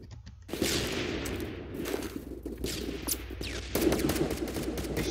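Rapid bursts of gunfire from the video game Phantom Forces crackle in quick volleys, sharp and loud, with several overlapping shots across the clip.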